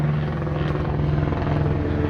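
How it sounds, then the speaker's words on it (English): Helicopter rotors thump in a steady, droning throb as the aircraft circle overhead, loud and continuous throughout. "all this nonsense helicopters going around"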